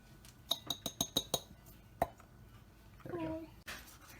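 A measuring cup of all-purpose baking flour tapped to shake the flour loose: six quick sharp clinks in a row, one more a moment later, then a short spoken remark close by.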